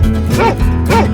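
A dog in a 3D animal video game gives two short, close barks about half a second apart over a steady background bed.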